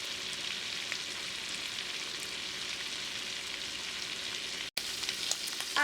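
Shrimp sizzle steadily in a hot pan, a bright, continuous frying crackle close by, with a brief break near the end.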